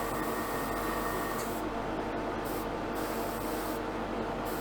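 A spray gun lays rapid-thinner paint onto a Jaguar E-Type panel in a steady, loud, continuous hiss with brief easing of the spray, heard up close with no talking.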